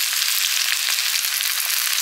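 Spices and potatoes fry in a pan with a loud, dense, steady sizzle, close up and unbroken throughout.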